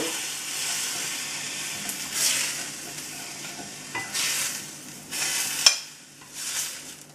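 Mushrooms sauté in a pan with only a few drops of oil, giving a steady close sizzle broken by repeated bursts of stirring and scraping, with no talk.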